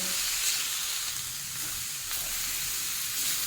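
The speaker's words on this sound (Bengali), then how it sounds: "এই সময় ফ্লেমটা লোতে রাখবেন, একটু মশলাটা হালকা কষিয়ে নিতে হবে।" Spice masala sautéing in a pan over a low flame for a chicken and chana dal dish, giving a steady soft sizzle and hiss with faint stirring scrapes throughout, no voices.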